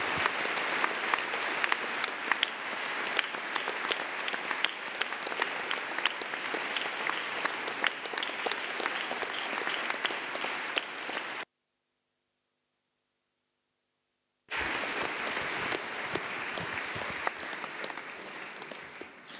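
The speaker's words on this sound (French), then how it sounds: "je propose que ce soir, on applaudisse fort le Saint-Esprit" Church congregation applauding loudly and steadily, a dense wash of clapping from many hands that runs unbroken, cuts out to silence for a few seconds, then resumes just as strong.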